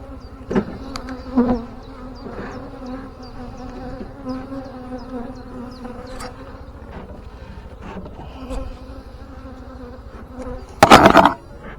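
Honey bees swarm around an open beehive during a Demaree swarm-control split, a dense continuous buzz close to the microphone, punctuated by occasional thumps and knocks of hive boxes being handled.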